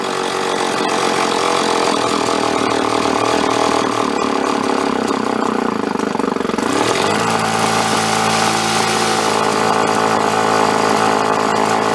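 A John Deere chainsaw, salvaged from the garbage and running without its air cleaner, roars loudly and continuously during carburetor tuning, its engine note shifting to a higher, revved pitch partway through.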